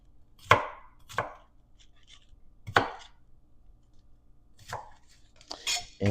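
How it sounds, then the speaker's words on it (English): A knife cuts an onion into chunks on a board: five separate sharp chops spaced a second or more apart, close and crisp against a quiet background. "so just cut up a couple chunks of this onion"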